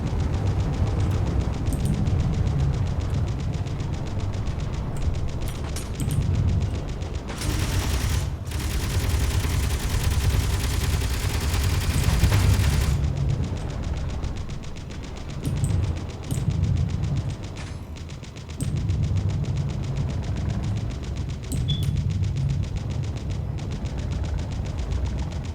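Sustained automatic gunfire in the video game Space Engineers, dense rattling bursts over a low rumble with a loud, bright stretch of heavy firing in the middle, continuing without speech.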